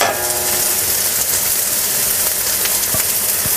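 Chicken and jalapenos searing in a hot pan, a loud, steady sizzle and crackle of frying with occasional sharper pops, close and continuous with no talk.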